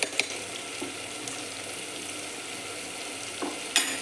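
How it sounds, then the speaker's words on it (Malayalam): Chicken coated in masala for a chicken curry, stirred in a pan: a steady, fairly quiet broadband sizzle with a few faint scrapes and a sharper clatter near the end. "ചിക്കന് നല്ലവണ്ണം മസാല പിടിച്ച് യോജിപ്പിക്കുന്നത് വരെ അങ്ങനെ ഇളക്കിക്കൊണ്ടേയിരിക്കണം"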